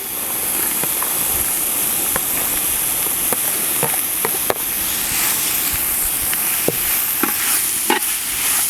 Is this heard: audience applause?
no